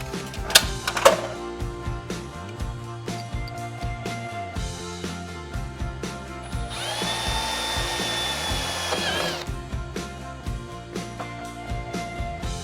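A 1/8 bit drills into fiberglass while a deck hatch is fitted at the helm station of a Bayliner E18 boat. The drill whines steadily for about two and a half seconds mid-clip, with clicks and handling knocks before and after.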